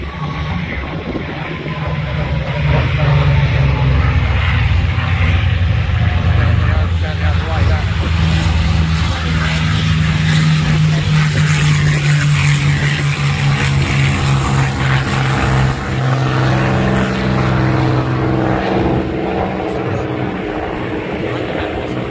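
P-47 and P-51 propeller warbirds flying low at the Duxford airshow, a loud continuous droning roar of piston engines that holds steady throughout, with broadband wind and crowd noise layered over it.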